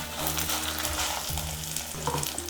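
Lentils and three dried red chillies fry in oil for coconut rice, giving a dense, steady sizzle close up with stirring scrapes throughout and no voices.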